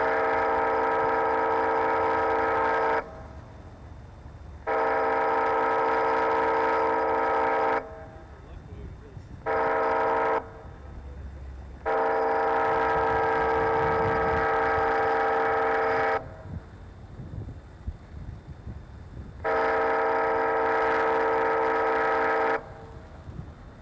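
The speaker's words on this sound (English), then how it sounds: "So at the first location, we'll go ahead and get them to sound the horn" Wayside horn mounted at a railroad crossing, sounding loud steady multi-tone blasts in a pattern of long and short bursts, heard from about 100 feet with pauses of quieter background between blasts.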